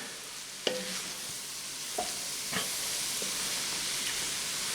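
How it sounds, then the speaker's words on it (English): Flour is stirred into a roux in a pot over a low background sizzle, with a few sharp spoon knocks against the pot at irregular intervals. "So keep stirring it until you can't see any flour anymore."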